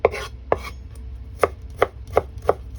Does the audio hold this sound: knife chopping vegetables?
yes